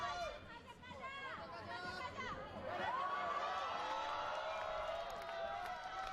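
A crowd cheering at an IFSC World Cup bouldering semi-final in Moscow, rising whoops and shouts that swell and hold in a large indoor venue, with a voice talking over the cheering.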